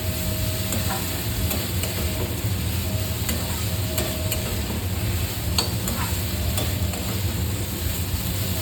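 Steady sizzling of a curry frying in a pan as potatoes are stirred in, with intermittent scraping and clicking of a utensil stirring through it.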